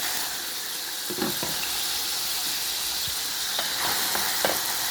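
Steady, loud sizzling of red tomato frying in a pan with onion and garlic, with a few soft clinks of stirring scattered through the hiss.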